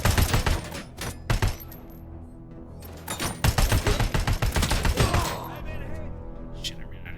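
Gunfire from the Robocop: Rogue City video game comes in sharp bursts of rapid shots, then a dense volley before it trails off into clattering and quieter game sounds.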